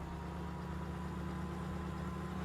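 Tractor engine idling in Farming Simulator 17, a steady low mechanical hum with a constant throb, even and unbroken throughout, with no voices over it.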